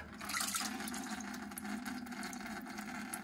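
Water rushes steadily from a newly installed ice maker water line, a continuous hissing, splashing flow close by with no talking over it.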